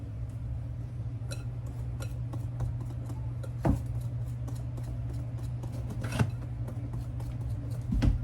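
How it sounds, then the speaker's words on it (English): Cookie ingredients being whisked together in a bowl, a rapid run of light clinks and taps of the whisk against the bowl over a low steady hum, with a few louder knocks. "you're just going to kind of whisk that together real quick"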